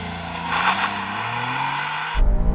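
A Honda S660 kei car accelerates hard from a standstill toward 60 mph, its small engine droning loud and close as the pitch climbs through the revs, then the tone drops abruptly near the end as it shifts gear.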